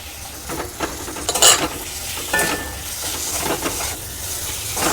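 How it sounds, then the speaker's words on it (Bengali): Minced meat frying in a pan with ground turmeric, coriander, chili and salt, stirred steadily: a continuous close sizzle with repeated scraping and spatula clinks against the pan, no talking. "এবার দিয়ে দেব মাংসর কিমা"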